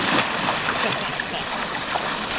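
A kayak pushes off into a Texas spring creek, with steady running-water noise and light splashing close by, plus faint talk in the background.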